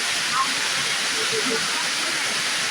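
Heavy rain pours down in a dense, steady hiss, loud and continuous, with a few faint voices murmuring briefly underneath.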